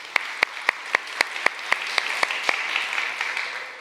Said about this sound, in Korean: 우리 박수로 우리 격려해 주시기를 바랍니다.